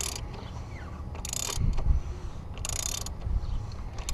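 Ratcheting clicks as a 36mm socket on a ratchet loosens the oil filter housing of a 2003 BMW 330i, a few short bursts of metallic clicking separated by pauses, close and moderately loud.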